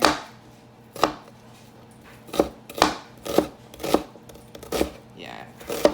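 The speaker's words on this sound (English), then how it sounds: "So anyway, so rough cut on the onions here." A knife rough-cuts onions on a cutting board for Southern-style sweet potato greens: irregular, sharp chopping strokes at close range, with a person speaking between them.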